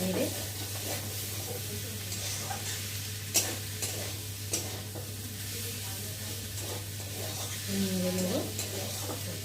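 Pasta with tomato, carrot and potato stirred in a frying pan, a steady low sizzle with scattered scraping taps of the spoon, close and moderately quiet, no talk.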